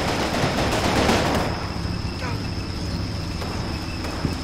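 Dense, continuous gunfire rattles in Combat Mission Red Thunder, a WWII battle toward Berlin. The crackle is loudest at first and then settles into a steadier, slightly quieter clatter.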